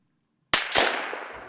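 A sharp gunshot cracks out of silence during special forces winter training, followed almost immediately by a second shot, with a long echoing tail rolling away afterward.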